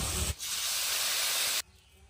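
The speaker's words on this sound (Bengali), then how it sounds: "কাঁঠালের আটিটা ভাজা হয়ে গেছে, আমি এবার জলটা দিয়ে দেব।" Water poured into a pan of frying jackfruit seeds and chillies sets off a loud, close, broadband sizzling hiss that lasts a little over a second and then cuts off abruptly, leaving a quiet background.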